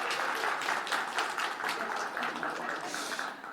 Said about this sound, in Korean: 자, 박수 쳐주세요.